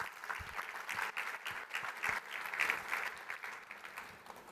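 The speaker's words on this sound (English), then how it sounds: "I think you all deserve an applause because this is a phenomenal result" A group bursts into sustained applause that stays fairly faint and distant, a steady patter of many hands clapping with no talk over it.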